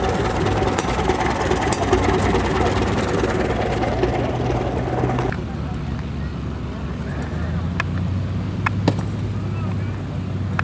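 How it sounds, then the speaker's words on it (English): An old oil field style engine runs at a tractor show, a steady low rumble with outdoor crowd noise, changing character partway through as the perspective shifts; people talk in the background. "that engine looks like an oil field engine"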